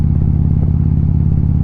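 A Harley-Davidson motorcycle rumbles steadily while riding through East Bay canyon roads, a loud, close, low engine drone with a regular pulsing beat and no talk over it.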